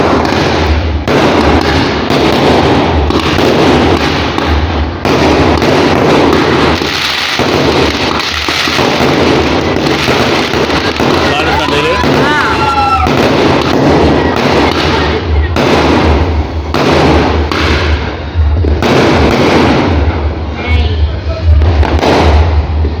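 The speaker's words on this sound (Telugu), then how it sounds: "బయట క్రాకర్స్ అయితే కాల్పిస్తున్నారు అనమాట చాలామంది మీరే వినియండి" Firecrackers and fireworks burst outside on New Year's night in a dense, continuous crackle of pops and booms, with a whistling rocket rising partway through. People talk under the racket.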